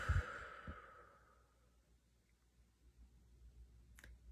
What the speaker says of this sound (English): take a nice deep inhale, and a nice exhale